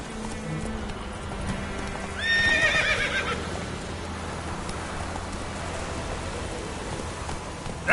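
Roach, Geralt's horse in The Witcher video game, lets out a loud whinny partway through, over soft hoof clip-clops and a steady rain-like ambience.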